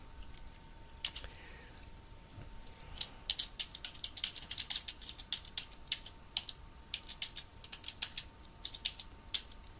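Rapid, uneven clicking of keys on a computer keyboard while entering data in Excel 2010, close up, in quick bursts with short pauses between them.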